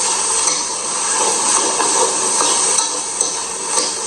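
Fried rice being stir-fried in a pan for a daughter, giving a steady, loud sizzle with soft scraping and stirring strokes throughout, no voices.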